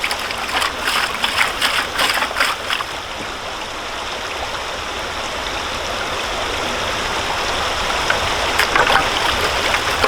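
Water pours and splashes steadily into a gold pan nearby, a continuous rushing flow with a few brief clatters near the start.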